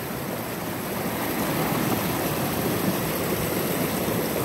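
Stream water rushing across a flooded trail crossing, a steady broadband roar of flowing water heard close and continuous for the whole stretch, with no voices.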